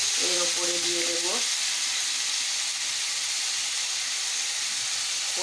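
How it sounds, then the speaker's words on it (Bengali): Garlic and tomato frying in a pan, a steady broadband sizzle and hiss with a brief tonal chime near the start, continuing evenly throughout. "দিয়ে এইটাকে বেশ করে নাড়াবো, একটু 3 সেকেন্ডের মতো ভেজে নেব"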